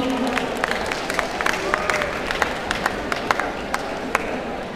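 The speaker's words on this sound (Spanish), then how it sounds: "Un aplauso para mi amigo aquí." Applause from a convention audience at the Antares 2016 event, a steady wash of clapping with scattered sharp claps over background crowd murmur and a voice talking.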